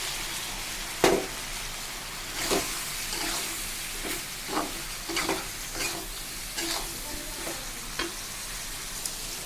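Prawns and ground spices being sautéed with turmeric in mustard oil in a pan, with steady sizzling and a series of sharp stirring scrapes at irregular intervals, and no voices.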